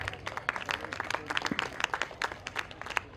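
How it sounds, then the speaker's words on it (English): A seated audience at a literary carnival panel discussion gives a round of applause, a moderate and slightly distant patter of hand claps that runs steadily throughout. "Please welcome Mr. Sanjay with a huge round of applause."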